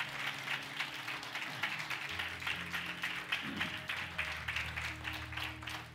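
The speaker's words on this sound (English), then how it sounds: "Give the Lord a hand clap." Congregation at a Sunday worship service claps hands in a steady, rapid beat, with sustained organ or keyboard chords underneath and brief vocal sounds in the middle.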